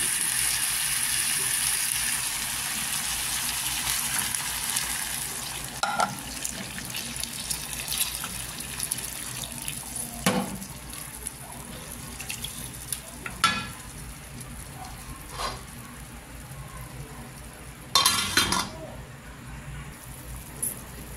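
Water pours and splashes into a pot with occasional sharp clinks and a sizzle, a steady wash of flow noise throughout.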